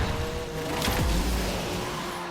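Cars race in the video game Asphalt Unite with a dense, continuous engine roar and a swooping tire-squeal sweep in the middle, loud and with no voice over it.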